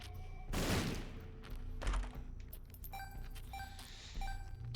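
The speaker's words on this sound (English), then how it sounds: "We will bomb this." A bomb blows up in The Binding of Isaac: Repentance, one loud booming blast with a rumbling tail, followed by thuds and chiming game effects.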